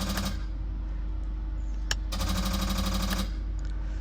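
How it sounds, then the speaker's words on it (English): Transbrake on a twin turbo Hemi truck clicking as the bump button is pressed, a few sharp clicks over a loud, steady idling engine rumble. "Listen for the Transbrake. Click, listen, as I push the bump button."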